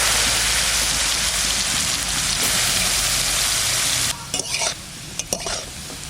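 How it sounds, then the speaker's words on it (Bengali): Potato pieces coated in turmeric and salt fry in hot oil in a pan with a loud, steady sizzle, which then drops away into a few close clinks and scrapes as they are stirred. "আলু কটা দেখেন কি সুন্দর ভাজা হয়েছে"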